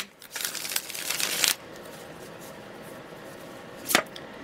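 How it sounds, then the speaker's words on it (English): A tarot deck being shuffled by hand gives a dense papery riffle lasting about a second, followed after a quiet pause by a single crisp card snap. "One more shuffle."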